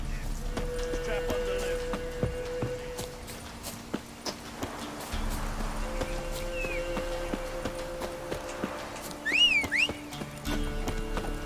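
A horse clip-clops along with a brief whinny near the end, the hoof beats mixed with music-like tones and other background sounds.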